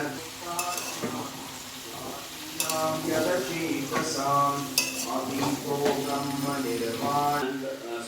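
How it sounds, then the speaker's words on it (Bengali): Vegetables fry in a pan for sabudana khichuri, giving a steady close sizzle broken by repeated stirring scrapes and clinks of a utensil against the pan. "সবজিগুলো একটু ভাজা হয়ে আসলে কুমড়োটা দিয়ে দেব"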